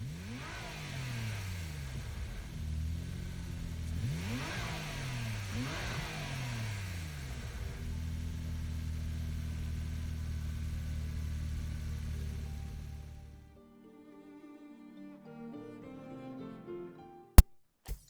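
A Renault Megane RS Trophy fitted with the Volkswagen GTI VGT Grade 3 engine swap revs repeatedly in Gran Turismo 7. It sweeps up and down through several blips, then holds a steady high drone and drops to a quiet idle with a couple of clicks.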